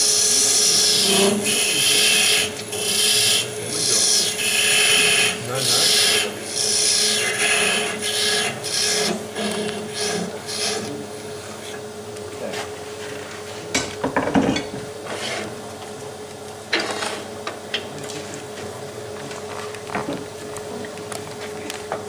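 A lathe takes a facing cut to clean off the front face of a workpiece, giving a loud, steady cutting whine with gritty scraping and a constant hum, easing later into quieter running with scattered clicks.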